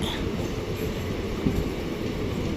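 An Amrit Bharat train at Manapparai station gives a steady, close rumble of wagons rolling over the rails, with a faint high metallic whine running above it and no voices.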